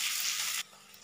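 Onions frying in refined oil in a kadai give a loud, dense hiss for about half a second, which then drops abruptly to a faint background crackle.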